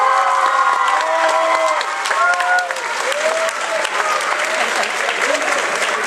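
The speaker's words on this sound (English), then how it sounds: "I want you to give him a roaring round of applause." A high school pride assembly breaks into loud applause and cheering from the student crowd, with sustained clapping, shouts and whistles filling the room throughout.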